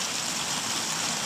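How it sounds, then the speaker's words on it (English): Rain falling outside, a steady broadband hiss like heavy downpour or rushing water, constant and fairly loud through the brief moment, with no talk over it. "I don't know if you guys can hear the rain like picking up."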